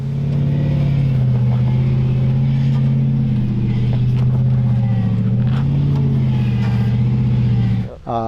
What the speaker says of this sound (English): You get to hear the motors sing a little bit.